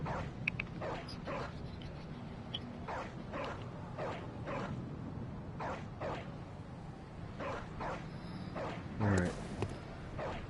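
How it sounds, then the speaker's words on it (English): A dog barks repeatedly in the dark gothic world of the video game Bloodborne, sharp separate barks at irregular intervals over a low ambient rumble, with a brief whimpering yelp near the end. "Still hearing the dog barking."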